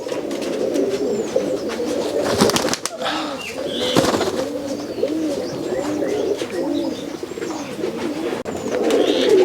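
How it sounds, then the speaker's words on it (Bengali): Racing pigeons at a pigeon farm in Rajshahi coo steadily in a dense, overlapping chorus, close and continuous, with occasional wing flaps and faint chirps mixed in. "এই কবুতর জোড়া হচ্ছে পাল্লার কবুতর।"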